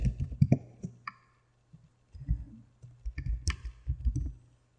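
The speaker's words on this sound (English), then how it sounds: "putting in the tab key and typing tab." Several sharp, close clicks come from tab-key presses on a computer keyboard, spaced irregularly in small bursts between stretches of near silence.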